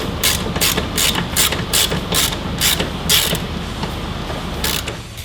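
A wrench ratchets a nitrous jet tight on a 2013 Dodge Challenger, a loud nearby series of about a dozen evenly spaced rasping clicks over a steady low hum.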